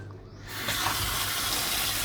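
Tap water runs steadily into a sink while pork is washed with coarse salt, starting quieter and swelling into a continuous close rushing splash.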